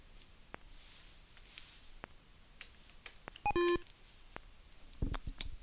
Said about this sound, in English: I left all the beeps in, so I need to take them out.